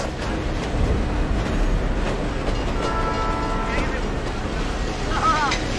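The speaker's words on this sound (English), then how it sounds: "trains coming, as often happens on platforms" A train rumbles into a station platform in Bangladesh with a steady low roar and brief squealing brakes, while voices chatter in the background.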